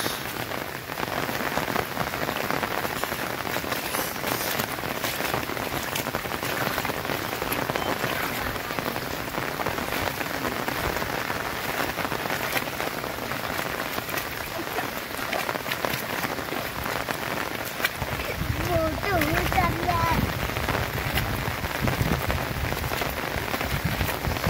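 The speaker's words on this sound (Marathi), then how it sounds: "खूप जोराचा पाऊस चालू आहे." Heavy monsoon rain pours down in Konkan during a river flood, a dense continuous hiss of drops on surfaces, close and steady, with a deeper splashing rush toward the end.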